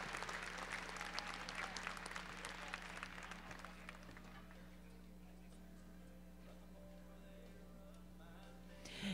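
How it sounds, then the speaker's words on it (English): Audience at a horse show cart division for gelding, grade and mare entries breaks into sustained applause and crowd noise that gradually fades to a quieter room tone over a steady low hum. "Give them all a nice round of applause."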